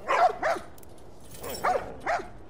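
Dogs in The Last of Us barking in two pairs of sharp, distinct barks separated by a pause, fairly close and clear, with no voices over them.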